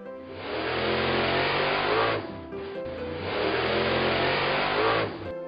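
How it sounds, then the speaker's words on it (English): Monster bus engine revving loudly up close in two long surges separated by a short drop, with a gritty racing-car roar and faint squeal. "Monster bus."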